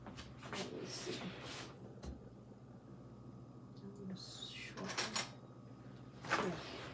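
A kitchen drawer in a cabin kitchen is pulled open and rummaged through, giving a few scraping slides and clatters over a steady low background hum.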